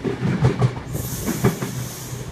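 Sydney Trains K-set carriages pass a platform on a City Circle service, a steady rumbling roar with rhythmic wheel clacks and a faint high hiss, close and continuous.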